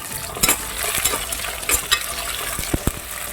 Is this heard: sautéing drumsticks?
yes